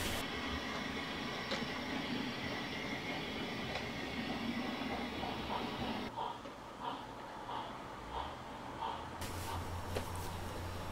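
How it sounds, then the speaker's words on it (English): A model goods train of open wagons and vans, hauled by a Lionheart 74XX pannier tank locomotive, rolls in with a steady mechanical whir and rumble, then shifts to a quieter hum with faint intermittent clicks near the end. "the morning goods is arriving with a few open wagons and some vans pulled by a trusty Lionheart 74XX pannier tank"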